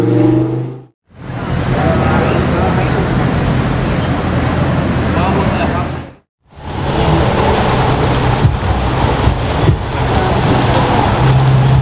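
Rain falls on a city street lined with parked cars, a loud, steady hiss of droplets broken by two brief drops to silence.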